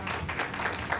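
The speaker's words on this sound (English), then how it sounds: "You can clap if you want to." An audience claps at a community benefit for the Richard Kemp Center, a dense, steady patter of many hands filling a short burst without any voices over it.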